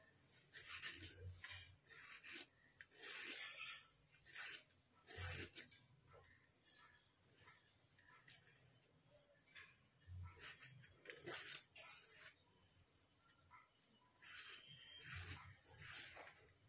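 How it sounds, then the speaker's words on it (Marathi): Ridge gourd (dodka) having its ridges scraped off by hand in a kitchen: repeated short rasping, rubbing strokes in irregular bursts, close and fairly quiet, with no talking. "अशा मी सगळ्या शिरा काढून घेते दोडक्याच्या।"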